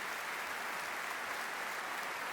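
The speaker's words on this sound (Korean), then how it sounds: "그분들을 위해서 박수 보내드렸으면 좋겠습니다" Audience applause for the staff at a summer church gospel gathering, a soft, steady wash of many hands clapping at a distance with no voices over it.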